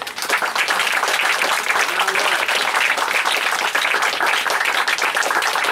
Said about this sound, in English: Please join me in a round of applause for these outstanding warriors and family members.